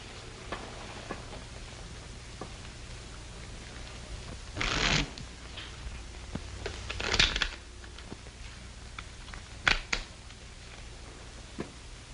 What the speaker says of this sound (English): Shuffle and deal.